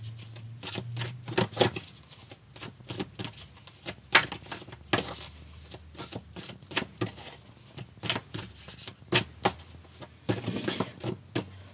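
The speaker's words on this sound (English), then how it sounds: "So as I'm shuffling" Tarot cards shuffled by hand in a rapid riffling patter, bursts of crisp flicks and slaps repeating steadily close to the listener, with no voices.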